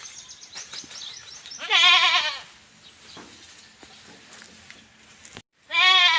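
Native goats bleat in a pen, a loud close cry in the middle and another at the end, with softer animal movement and faint calls between them.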